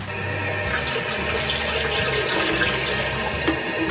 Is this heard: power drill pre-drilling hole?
no